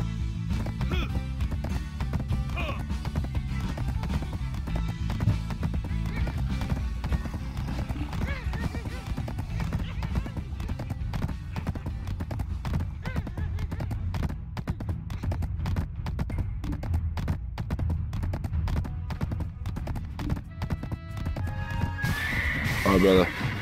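Horse whinnies and hoofbeats in a video game, heard under steady game music and ambient noise for the whole stretch, with a person talking over it.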